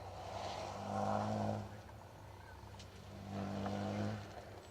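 Rally car on a forest stage of the Welsh Rally Championship, its engine note rising and falling twice as it passes at a distance, fairly faint, with gear changes between the two louder swells.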